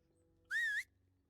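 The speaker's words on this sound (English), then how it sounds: "One whistle and my horse gets teleported." A single short whistle calls a horse in a video game, a clear, close, slightly wavering tone lasting about a third of a second over a quiet background hum.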